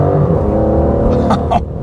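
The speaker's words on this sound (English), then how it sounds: "Man, that V12 sounds incredible." An Aston Martin DBS Superleggera's V12 engine revs loudly and close, a dense, rich roar held steady, then easing briefly near the end.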